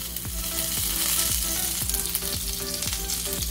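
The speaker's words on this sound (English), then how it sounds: "I'm putting butter first" Butter sizzles and crackles steadily on a hot plate just before a steak goes on, a loud, close frying hiss that continues without pause.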